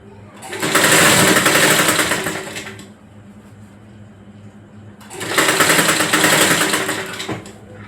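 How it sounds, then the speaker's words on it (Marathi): A sewing machine stitches a blouse in two loud, steady bursts separated by a short pause, running close and fast with faint background sounds between runs. "अशी तुम्ही शिलाई मारायची आहे."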